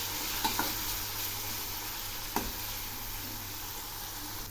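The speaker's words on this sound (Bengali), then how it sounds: "এই পেঁয়াজ আর টমেটোগুলো খুব ভালো করে ভেজে নেব।" Onions and tomatoes frying in a pan sizzle continuously up close, with a low steady hum underneath and a couple of sharp scrapes as they are stirred.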